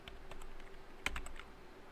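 Keystrokes on a computer keyboard while entering commands in a Linux terminal, a quick run of light clicks with a sharper tap near the middle, close and fairly quiet, with no talking.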